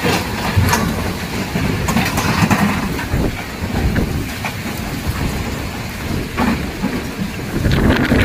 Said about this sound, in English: 贵阳的狂风暴雨